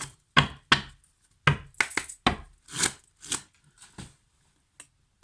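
Tarot cards being shuffled and riffled by hand, crisp papery bursts in irregular clusters with short quiet gaps between them, close and alone.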